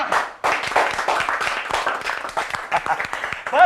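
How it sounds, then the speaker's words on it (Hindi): A small group clapping at an office send-off party in the Hindi sitcom Hari Mirchi Lal Mirchi, the claps rapid and uneven, with voices mixed in and a voice rising near the end. "भाई तालियां।"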